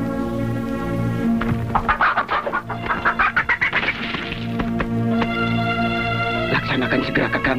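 A chicken in a film scene, about to be given poison, squawks and clucks in a rapid run of calls over a steady tonal background that continues before and after.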